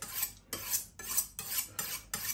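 Sardines (mackerel) cooking in a pot are stirred with a metal utensil, giving six rhythmic scraping, clinking strokes against the pot, close and moderately loud, with no talking.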